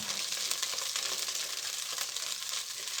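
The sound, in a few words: onions, garlic and shallot sizzling in butter in a pan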